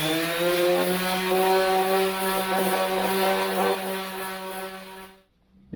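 A power sander with 120-grit paper works a steel car body panel on an Austin Healey, a loud steady droning whir that holds for about five seconds before cutting off abruptly.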